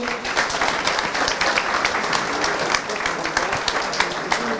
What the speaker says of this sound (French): On peut l'applaudir encore une fois, Aaron.